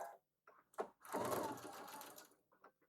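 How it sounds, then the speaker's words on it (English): A sewing machine stitches down the side of a quilt block, a few short bursts of needle whirring building into one sustained run of steady stitching, close and clear with no voices. "going to sew down this other side"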